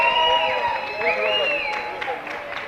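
An audience applauds and cheers newly introduced guests, a couple who are shop directors, at a live panel event. Steady clapping runs under tonal, music-like sound for the whole stretch.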